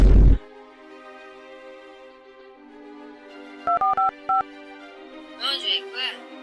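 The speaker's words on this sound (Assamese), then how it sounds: "মই ফোন এটা কৰিছোঁ" Telephone keypad tones as a number is dialed: four quick evenly spaced beeps, then a fifth after a short pause, over a steady low hum. A voice is briefly heard near the end.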